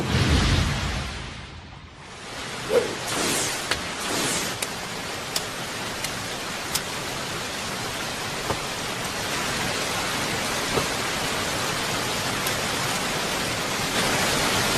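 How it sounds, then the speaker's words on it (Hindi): Rain pouring during a Naruto anime scene forms a steady, dense hiss with scattered sharper drop impacts, holding loud and even throughout after a short quieter dip near the start. "बारिश हो रही है, इससे उनकी गंध मिट जाएगी।"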